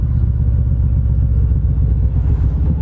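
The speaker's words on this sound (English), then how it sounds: "just the kind of the droning of the exhaust" A Kawasaki Voyager motorcycle's exhaust drones on the interstate, a loud, close, deep and steady rumble heard from the bike itself, with no change in pitch and no voices.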